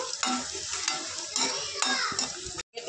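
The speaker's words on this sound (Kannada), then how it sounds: "ಸೊ ಇವಾಗ ಒಟ್ಟಿಗೆ ಎಲ್ಲ ಹಾಕಿ ಫ್ರೈ ಮಾಡ್ಕೊಳ್ಳೋಣ" Mustard seeds and chillies frying in a pan for spicy puffed-rice snack, a close crackling sizzle with spoon stirring scrapes and clinks, ending in a brief drop to silence.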